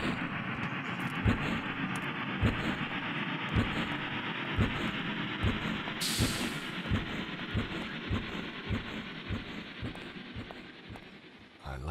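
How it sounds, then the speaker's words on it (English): Train in the video game Amok Runner about to depart, a steady rumbling rail noise with regular rhythmic clacks repeating about once a second, continuous and close, plus a brief hiss partway through. "Hurry up, the train's about to leave."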